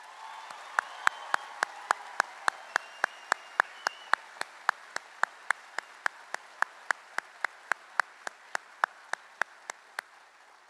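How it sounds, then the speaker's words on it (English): Applause from the crowd at a Texas DPS trooper trainee graduation ceremony, heard as a long run of sharp, evenly spaced claps that carry on steadily for about ten seconds, fairly close and with no talking over them. "I think that deserves another round of applause"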